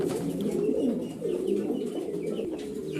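Grizzle beauty homer pigeons give a continuous low murmuring coo, several birds overlapping into a dense, steady warble at close range with no talk.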